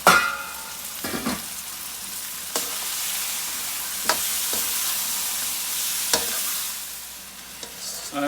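Spices are stirred into onion-based gravy in a pan for a British Indian restaurant chicken curry, with a steady sizzle of frying under repeated scraping and stirring strokes, close and fairly loud, with no talking.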